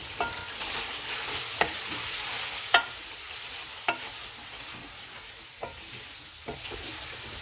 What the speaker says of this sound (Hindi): चिकन फ्राई हो गया, इसमें अदरक और लहसुन का पेस्ट डालेंगे। इसको 2 मिनट तक भूनेंगे।